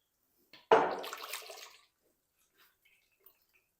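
A little water is poured into a jug in a home kitchen while egg korma is being cooked, giving one brief, close splashing gush followed by a few faint drips in near silence.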